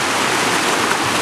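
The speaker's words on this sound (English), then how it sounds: "show you the creek. There's the creek behind the tree." Steady, loud rushing of a mountain creek, a continuous broadband wash of flowing water with no pauses and no voices.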